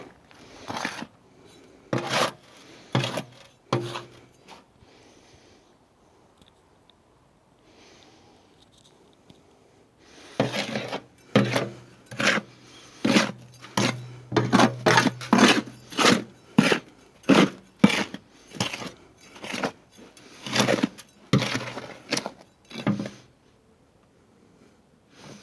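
Dry soil mix for planting apricots being stirred and turned by hand, with irregular scraping and rustling strokes that come in busy clusters with quieter gaps, close by.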